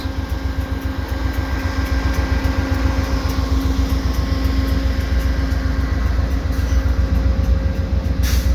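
Via Rail LRC passenger rail cars roll steadily past close by at Dorval station, wheels clacking in a fast regular rhythm over a constant mechanical hum.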